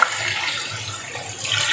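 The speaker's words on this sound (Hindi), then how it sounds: "ये 3 गिलास मैंने पानी डाल दिए।" Water poured in a steady, splashing stream from a glass into a cooking pot of potatoes for potato rice, a continuous close pour lasting under two seconds with no talk.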